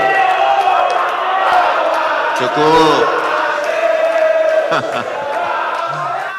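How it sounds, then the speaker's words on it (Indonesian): Hall audience at a gubernatorial election debate in South Sumatra applauds and cheers in a steady, loud roar, with a few sharp louder bursts and a brief spoken word on top. "Kita tepuk tangan sekali lagi untuk acara ini."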